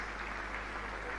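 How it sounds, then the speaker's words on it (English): Audience applause at an oil refinery crude oil berth ceremony, a dense, even wash of clapping that sounds distant and fairly quiet throughout the short stretch. "Please, let's give her a round of applause."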